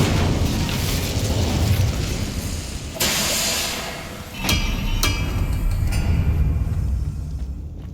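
A Hogwarts Legacy Incendio fire spell bursts out with a loud whooshing roar, then sharp crackling impacts and a sustained rushing blaze that fades near the end.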